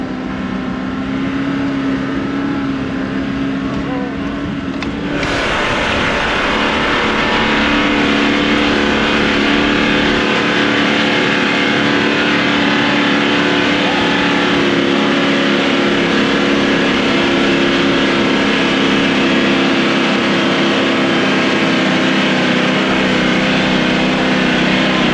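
A Toyota Troopy 4x4 engine held in second gear, low range, revving hard and staying near maximum revs in a loud, steady mechanical roar that climbs sharply after a few seconds and holds.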